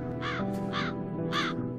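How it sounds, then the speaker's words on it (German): Crows cawing in the fantasy video game Satinavs Ketten: three loud harsh caws in quick succession over a steady low ambient game drone. "das sind alles Raben, ne? Krähe, Krähe, Krähe."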